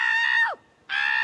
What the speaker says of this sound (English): I will scream for you